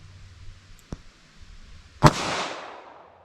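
.38 Special handgun firing Hornady Critical Defense ammunition in a ballistic test: one sharp, loud gunshot with a short decaying tail, preceded by a faint click, in an otherwise quiet setting.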